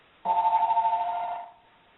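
A mobile phone goes off in a pocket during a lecture, a single steady electronic tone pulsing rapidly for just over a second before fading, heard alone in a quiet room.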